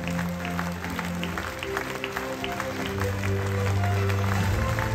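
Audience applauding a karate gold medalist at an International Youth Day 2024 ceremony, steady dense clapping lasting throughout, with music tones and a murmuring crowd underneath.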